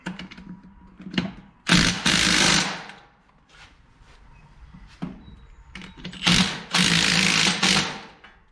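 A hand ratchet clicks in quick bursts while tightening a fitting on a new hydraulic line for a G950 grader, several loud ratcheting strokes separated by short pauses, close up with no talk.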